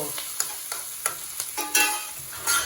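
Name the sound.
tomatoes frying in a pan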